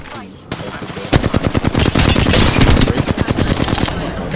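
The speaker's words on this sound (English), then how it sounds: "I thought that was you shooting at me." Rapid automatic gunfire in the Apex Legends battle royale game, one loud close sustained burst of fast shots after a brief opening shot, alone without talk.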